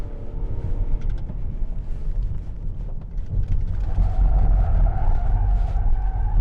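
Mitsubishi Outlander PHEV with four-wheel drive cornering hard, with a loud steady rumble of engine and road noise and a tire scrub that rises in the second half, heard from inside the car.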